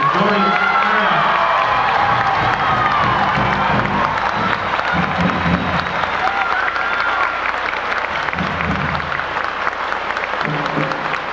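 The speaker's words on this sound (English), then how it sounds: "Let's have a nice round of applause for Mr. Dorian Parriott" Applause with cheers and whoops fills a high school graduation commencement for a retiring staff member, Mr. Dorian Parriott, loud and sustained throughout from a large crowd.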